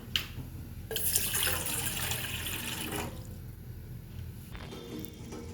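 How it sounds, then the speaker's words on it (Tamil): Water pours in a steady stream for a few seconds, splashing into a pot, then stops, leaving quiet room noise. "தண்ணி எடுத்து ஊற்றிக்கலாம்."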